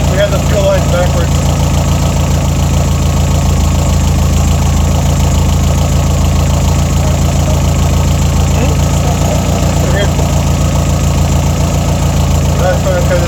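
An old engine running again after revival, idling loud and steady with a constant low rumble and ticking pulse, held close for the whole stretch with no breaks.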